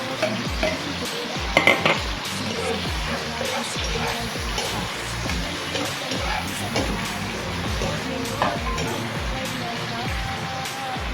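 Tomatoes and eggplant being stir-fried in a pan, with a steady sizzle and repeated scraping stirs throughout, under a voice talking.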